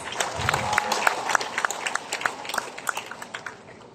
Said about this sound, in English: So we should all give her a round of applause.